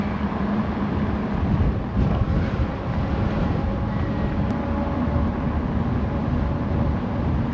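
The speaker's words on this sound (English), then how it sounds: "Friggin' super windy today." Strong gusty wind buffeting outdoors by a flooded river, a rough, rumbling low roar with surging gusts, steady and close, no voices.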